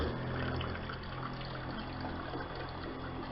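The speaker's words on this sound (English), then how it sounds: "And you just heard the pump kick on." A water pump kicks on in an off-grid setup, giving a steady, continuous mechanical hum with a watery, trickling texture that holds level and close throughout.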